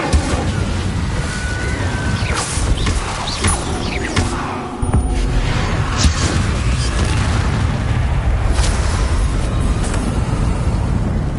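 An Incendio fire spell blasting in Hogwarts Legacy, loud booming bursts and crackling impacts amid ongoing combat noise, with a dip midway before the rumbling resumes.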